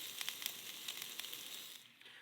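Sausages fry in a pan at a bush campsite, a soft continuous sizzle dotted with small pops and crackles, heard fairly faint and close.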